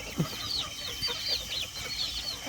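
A flock of chickens on a small farm clucks and chirps in a steady, overlapping chatter, several birds close by with no voices over them.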